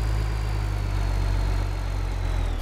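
A tractor engine idles in Farming Simulator 15, a loud, steady low rumble with a fast pulsing throb that holds unchanged throughout, no voices over it.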